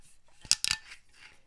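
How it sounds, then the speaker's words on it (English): The seal on a bottle of Johnnie Walker Double Black whisky cracks open with two quick, sharp metallic snaps in close succession, close and crisp in a quiet room, followed by a faint rustle. "Let's go ahead and crack this seal for the first time."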